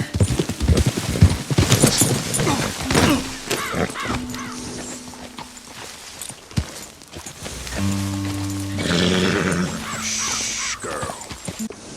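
Horse hooves clopping in a western open-world video game, a rapid rhythmic patter at moderate loudness, broken by sharp bird-like calls and tonal game sounds later on.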